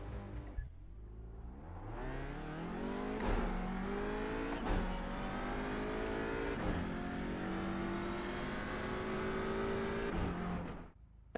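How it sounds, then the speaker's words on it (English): A TCR race car in iRacing pulls away from a standing start. The engine revs are held, then climb steadily in a loud, close whine, broken by several distinct upshifts, before it cuts off abruptly at the end. "we're going to hold those revs and we're going to shift up into first and be very gentle through first"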